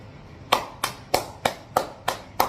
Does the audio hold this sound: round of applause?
yes